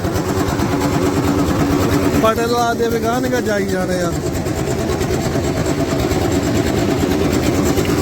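A running engine drives a potato grader with potatoes moving along it, a steady mid-to-low mechanical drone throughout, with someone talking over it partway.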